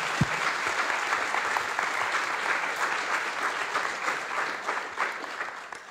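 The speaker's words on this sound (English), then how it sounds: "please give a nice applause to Helena Horská" Audience at an economics forum breaking into sustained applause, a dense, even wash of clapping lasting throughout at steady loudness, with no speech over it.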